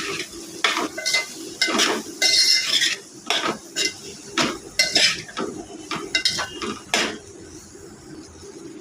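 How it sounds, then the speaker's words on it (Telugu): Turmeric and masala are mixed in a cooking pot for an egg and okra tamarind curry, a spoon scraping and clanking against the metal in repeated strokes over a faint sizzle, close and without speech. "పావు స్పూన్ పసుపు వేసుకుని ఇవన్నీ మసాలా బాగా కలిసేలాగా కలుపుకోవాలి"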